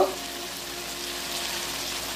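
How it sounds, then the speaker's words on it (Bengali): Sliced potatoes fry in oil tempered with cumin seeds, a soft, steady sizzle that hisses on without break at moderate distance. "আমি আলু কাটা ভাজছি, জিরে ফোড়ন দিয়েছি"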